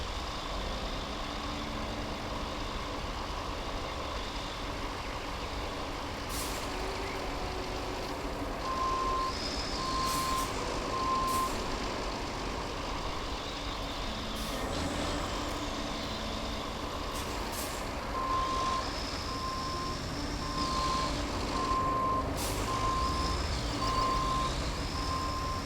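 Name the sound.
truck reversing with reversing beeps in RoadCraft video game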